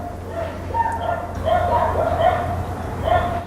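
A neighbor's dog yips and whimpers in short bursts against steady low background noise outdoors in Paraty, Brazil.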